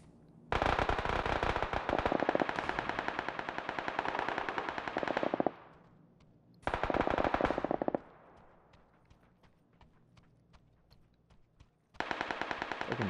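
Automatic gunfire in a shooter video game, with three loud bursts of rapid shots separated by pauses and scattered single shots in between.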